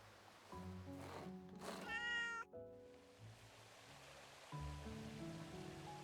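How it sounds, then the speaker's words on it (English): A cat in a cozy fishing video game meows a few times, soft and fairly close, with a quiet watery background and pauses between the calls. "Yay, I can pet Kitty"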